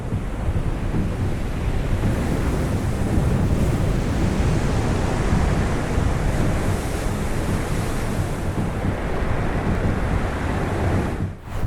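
Huge ocean waves breaking at Praia do Norte roar as a steady, loud wall of surf with heavy wind buffeting, continuous throughout with no voices.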